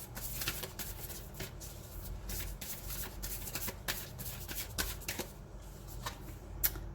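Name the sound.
shuffling tarot cards to draw one card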